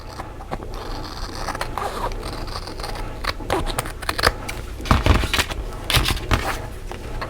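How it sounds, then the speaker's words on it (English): Scissors trim washi tape along the edges of a covered notebook, giving irregular snips and crisp cuts with light paper rustling and handling noise between them. "I'm just going to take my scissors and trim up around the edges"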